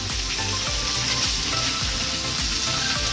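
Chopped Malabar spinach and slit green chillies go into a hot frying pan after fish head has fried, giving a loud, continuous sizzle with faint scraping and stirring.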